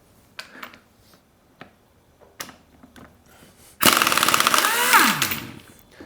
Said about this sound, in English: I'm going to use an air impact with a 27mm socket.